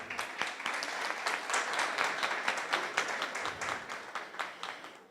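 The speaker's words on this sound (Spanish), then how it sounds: "Un aplauso para él, por favor." Audience applause after a speaker is introduced at a technology talk, steady dense clapping with scattered sharp individual claps, moderately distant and sustained throughout without voices.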